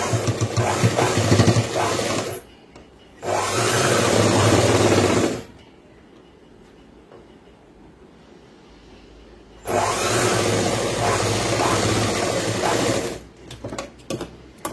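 An electric sewing machine stitches boys' school uniform pant cloth in three steady whirring runs, the middle one set apart by a quiet pause, loud and close with no talk.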